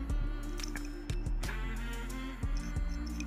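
Dishes are washed with water at a home sink, with close wet clatters, squishes and drips in an irregular rhythm over a steady low hum, no talking.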